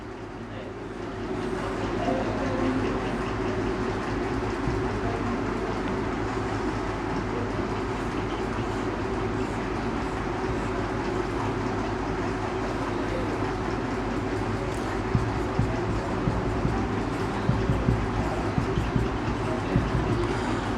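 A train rolls steadily along its rails with a continuous rumbling drone and faint rhythmic clatter, a constant loud roar that picks up a few sharper clacks toward the end.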